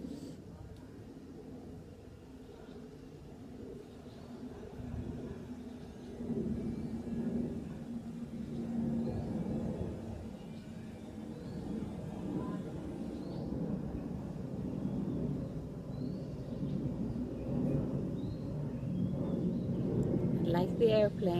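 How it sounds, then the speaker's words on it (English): An airplane passes overhead as a low, broad rumble that slowly swells over about twenty seconds, heard faintly beneath a calm voice speaking throughout. "like the airplane that you're hearing overhead"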